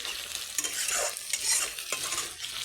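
Food frying lightly in oil, with new potatoes and new lentils being cooked for a goat meat dish, gives a close, steady sizzle with stirring scrapes and bursts of crackle throughout.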